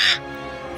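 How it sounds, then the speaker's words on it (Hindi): A crow-like bird gives a short harsh caw in a told story, one brief call over a steady background hum. "ये पक्षी क्या बोल रहा है?"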